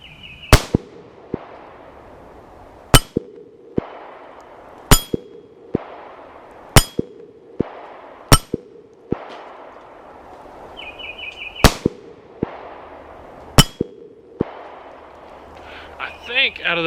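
Smith & Wesson Model 5906 9mm pistol fired at a 6-inch steel gong from 20 yards: about nine sharp, loud reports at an uneven pace, each followed by a bright metallic ring, with an outdoor range hush between shots.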